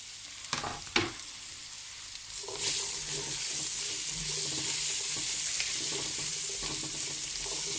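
Carrots and garlic tipped into a pot of sautéing onions: a few clattering thumps at first, then a loud, steady sizzle and hiss of frying that continues to the end with light stirring.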